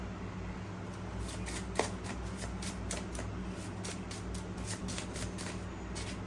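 Tarot cards being shuffled close up in a quiet room, a steady run of soft, rapid riffling flicks with one sharper snap partway through, no voices over it.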